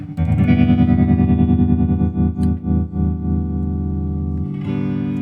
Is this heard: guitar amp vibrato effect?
yes